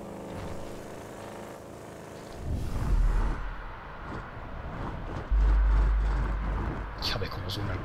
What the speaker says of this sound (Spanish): Ya ves cómo suena el coche